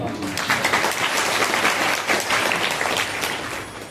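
Continuous applause from an audience at a Shiv Mahapuran religious discourse, many hands clapping together at a steady, moderately loud level.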